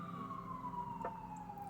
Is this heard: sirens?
yes